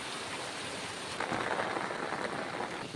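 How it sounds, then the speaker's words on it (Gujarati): Heavy village downpour during a farming-area storm, with water flooding a house courtyard: a loud, continuous roar of rain that swells a little partway through, with a faint hint of distant thunder. "હાલ તો વરસાદની સ્પીડ ધૂમધમાટ ચાલુ જ છે"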